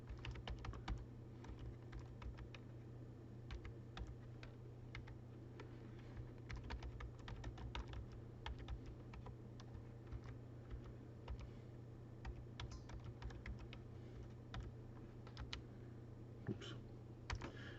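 Steady, rapid keystrokes on a computer keyboard while data is entered into a database table, continuous light clicking close up over a faint constant hum, without speech.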